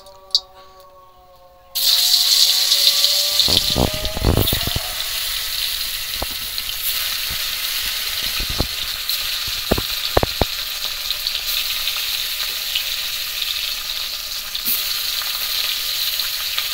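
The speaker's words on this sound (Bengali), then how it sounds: "এবার মাছটা ভেজে নেব। কড়াইতে তেল দিয়ে দিলাম।" Sea fish frying in hot oil in a wok, a dense continuous sizzle that erupts suddenly after a quiet start and crackles steadily with sharp pops and occasional utensil knocks, close and loud.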